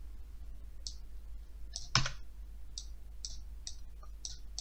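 A few sharp, isolated mouse clicks spaced out over a few seconds, with one louder click in the middle, against a steady low hum while working in an Excel spreadsheet.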